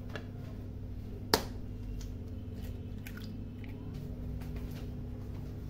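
A single sharp crack of an egg being broken for a savory phyllo pastry filling, one brief close snap over a steady low kitchen hum, followed by faint small clicks.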